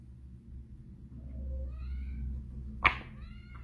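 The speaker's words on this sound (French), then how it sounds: "J'ai mon chat qui miaule" A house cat meows once, a short, fairly clear call over a low rumbling indoor background, with faint earlier mewing sounds leading up to it.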